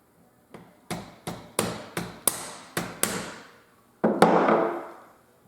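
Eight sharp metallic taps, close and evenly spaced, drive a buckhorn rear sight into the dovetail of a Henry 30-30 rifle, the last blow longer and ringing out.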